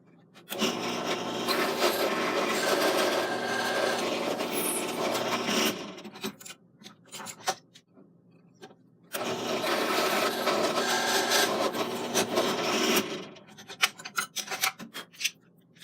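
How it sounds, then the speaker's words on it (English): A drill bores 3/32-inch holes in Lee bullet mold handles, two sustained grinding runs of about five and four seconds separated by a quiet pause with small handling clicks, close and moderately loud. "now it's time for the 3/32 hole to be drilled"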